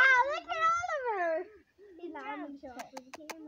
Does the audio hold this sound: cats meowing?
yes